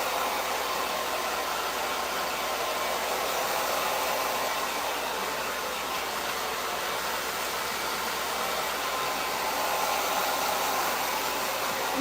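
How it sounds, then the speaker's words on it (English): A handheld blow dryer on high heat, used to dry sprayed hair during a quick weave styling, blows in one loud, steady, unbroken roar close to the microphone with no talk. "So now that we sprayed that, we're just going to go in with the blow dryer."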